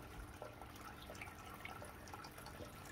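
Water trickles slowly and steadily onto soil around freshly cut, planted cherry tomatoes, a faint continuous splashing with no talk.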